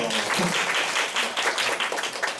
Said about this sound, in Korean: 네, 박수 주세요.